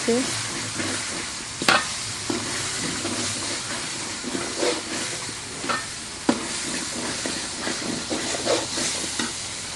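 Meat goes into a hot pan of cooked-down spices, sizzling and hissing steadily, with occasional scrapes and stirring clatter rising above the frying; no one speaks.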